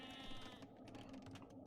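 Sheep bleating in the Age of Empires real-time strategy game, a brief nasal bleat at the start over a steady bed of game ambience and unit sounds.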